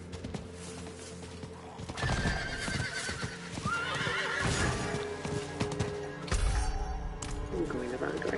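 In the video game Diablo 4, a horse neighs loudly several times while its hooves clip-clop in a steady rhythm, layered over game effects and occasional crashes.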